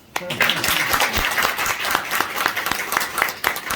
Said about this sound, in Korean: 이쯤에서 박수 한번 쳐주세요